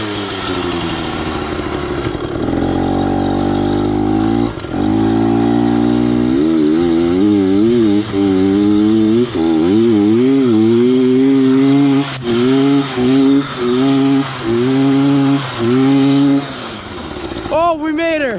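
A Yamaha PW80 two-stroke dirt bike fitted with an FMF exhaust and Boyesen reeds revs up and down while being ridden, a buzzy, wavering engine note that cuts out briefly several times, close and loud.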